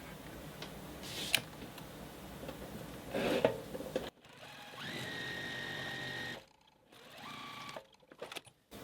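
A sewing machine stitches quilt strips together with a scant quarter-inch seam, running in a few separate bursts of steady whirring with short pauses and clicks between runs, close and clear, no talking.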